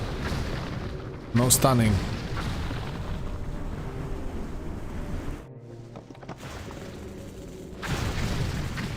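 Geode Barrage explosions in World of Warcraft boom repeatedly in a dense, rumbling game mix with a sharp burst near the start. Someone talks over the battle.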